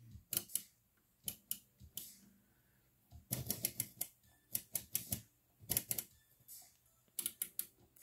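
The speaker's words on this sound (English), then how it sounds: "they're actually rotary switches" Rotary tone switches on a Pioneer SA-9100 amplifier click repeatedly in quick irregular bursts, sharp close-up detented clicks with short pauses between groups, alone without talk.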